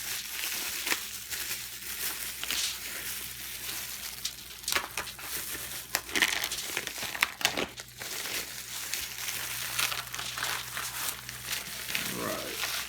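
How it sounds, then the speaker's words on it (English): A plastic blister pack holding a raw brisket is cut and pulled open, with crinkling, crunching plastic and scattered sharp clicks and rustles spread over several seconds, close up, with no talking. "we're going to be getting ready to liberate our brisket from the blister pack"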